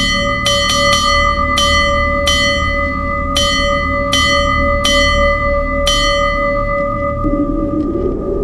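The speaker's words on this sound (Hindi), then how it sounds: "अचानक मंदिर की घंटियां बजने लगता है" Temple bells ringing for a horror story, a series of about eight loud, bright metallic strikes at irregular intervals, each leaving a long sustained ringing tone that blends into a continuous shimmering drone.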